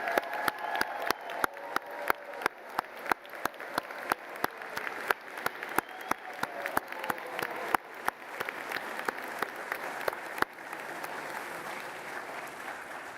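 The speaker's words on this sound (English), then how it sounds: "One more time, one big round of applause for our 2025 graduates." Audience applauding 2025 Physician Assistant and Physical Therapy graduates at a graduation ceremony, steady crowd clapping with loud sharp claps in a regular rhythm for about ten seconds, then softer applause continuing alone.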